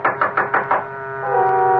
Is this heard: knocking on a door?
yes